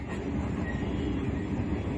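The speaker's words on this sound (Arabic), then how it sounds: "دلوقتي راكبين القطر VIP بتاع الاقصر" Inside a moving VIP passenger train bound for Luxor in Egypt, a steady loud low rumble of wheels on rails fills the space continuously, with no voices.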